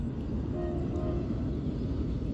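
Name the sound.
train passing beside the house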